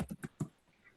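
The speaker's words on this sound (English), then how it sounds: "I'm good at typing really fast" Quick bursts of computer keyboard typing, a few sharp clustered keystrokes close up early on, then trailing off to faint quiet.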